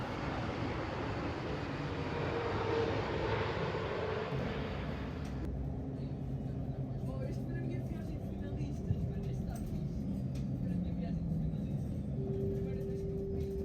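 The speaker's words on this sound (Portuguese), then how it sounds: "Os aviões não deixaram ouvir a pergunta." Airplanes pass over Lisbon, their broad roar dominating for about five seconds before abruptly dropping to a quieter background hum, with voices faintly present beneath.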